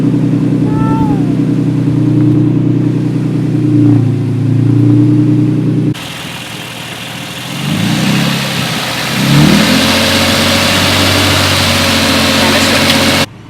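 A Toyota Tacoma X-Runner pickup truck's engine, just restarted after running rough, idles loud and close, then gets revved in a couple of rising and falling bursts, with no clear talk over it.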